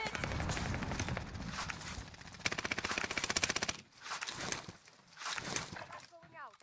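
Rapid automatic gunfire bursts and scattered shots echo through a Warzone battle, loud and dense at first and then breaking into shorter volleys, with voices talking over the fighting.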